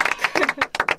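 Quick bursts of clapping come from a small group in a Korean talk-show studio, sharp and close, lasting about a second with some speech mixed in.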